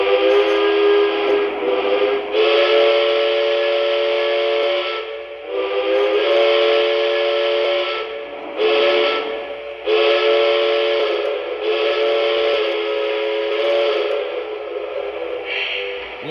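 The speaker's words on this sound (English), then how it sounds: "Let's check out the 5 whistles." Loud, sustained multi-tone steam-style whistle from a Lionel Strasberg Number 31 model train locomotive, sounding in long blasts with brief breaks between them, close and alone with no talk.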